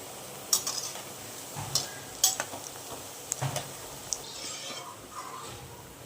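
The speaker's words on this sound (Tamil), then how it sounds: "இப்போது கட் பண்ணி வச்சுருக்க இந்த பீசஸை ஆட் பண்ணிக்கலாம். நல்லா ஃப்ரை பண்ணி எடுத்துக்கோங்க." Bread pieces frying in a pan for bread halwa, soft sizzling under scattered clinks and scrapes of a spatula stirring against the pan, close and fairly quiet.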